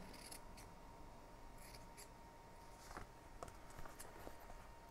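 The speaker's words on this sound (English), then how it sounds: "Cut this fabric off." Scissors snip through fabric for an altered notebook craft in a quiet room. A few soft, crisp cuts come in short clusters over a low background hiss.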